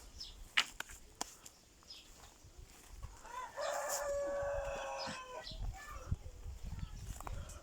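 Chickens cluck and squawk in a loose, uneven burst outdoors, with a louder flurry midway and faint background voices.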